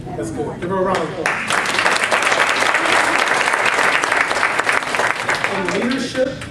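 Conference audience applauds a keynote speaker at a healthcare leadership event, a dense, loud wash of clapping that swells after a brief moment of talk and holds steady.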